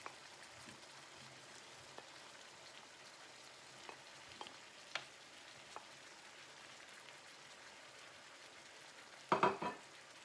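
Sliced onions frying in a pan for turmeric rice, a faint steady sizzle broken by a few small pops and one louder stirring clatter near the end, heard alone and close.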